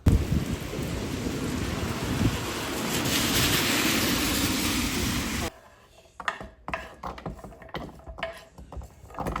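Heavy rain pours during a May storm with rumbling thunder, a dense roar that cuts off abruptly partway, leaving scattered quieter knocks and bumps.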